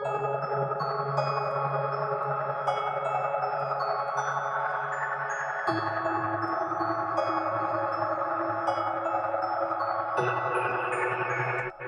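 A layered Omnisphere synth patch plays a sustained melodic line with bright tones over a deep low bass that shifts pitch partway through, clear and upfront with no voices.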